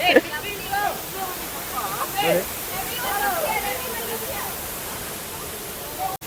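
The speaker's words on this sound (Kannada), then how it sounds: "ಫೈನಲಿ ಸೂರ್ಮನೆ ವಾಟರ್ ಫಾಲ್ಸ್ ಬಂದಿದ್ದೀವಿ" Steady broadband rush of Surmane waterfall, constant and fairly close throughout, with voices and crowd chatter on top of it.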